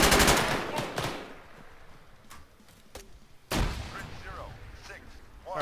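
Machine gun fire in the military shooter game Arma during a city battle, with a rapid burst at the start, a few sharp isolated shots, and then another heavy burst, loud and close, and players talking over it.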